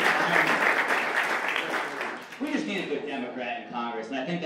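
Audience applause for people on stage at an environmental forum at SUNY Adirondack in Queensbury, New York; loud clapping opens, then thins as a voice speaks over the fading claps.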